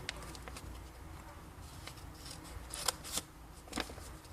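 Scissors snip through folded paper card while an envelope is cut, with a few crisp cuts near the end over quiet background.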